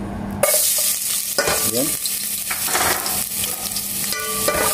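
Garlic fries in a pan for pork hamonado, a constant close sizzle broken by scraping stirs, with a brief word spoken over it.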